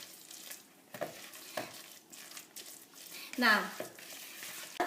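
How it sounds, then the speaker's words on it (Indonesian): Curry paste being stirred in a frying pan, a low, steady sizzle with scraping strokes and one louder scrape near the end, while someone talks over it. "Nah terus kita masukin curry pasta karena supaya ada rasa agak sedikit pedas. Terus kita aduk-aduk"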